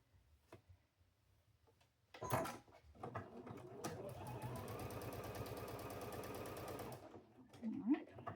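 A sewing machine stitching a quilt block for a bee-themed farm quilt runs in a steady fast whir for several seconds, close by, framed by handling clicks and a brief voice.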